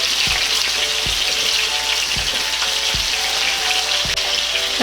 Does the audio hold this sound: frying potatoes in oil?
yes